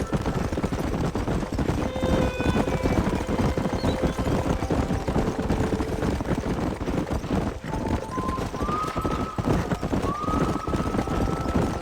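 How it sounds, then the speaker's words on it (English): Horses gallop in Red Dead Redemption, hooves clip-clopping steadily and loudly across the whole stretch, with rising tonal game sounds layered over the hoofbeats. "There's the horses!"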